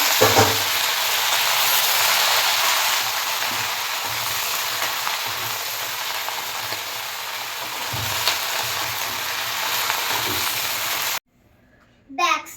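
Bori, small lentil dumplings, frying with panch phoron in hot oil, a steady loud sizzle for about eleven seconds, then a sudden drop to near quiet with a brief clatter at the end; a voice is faintly heard.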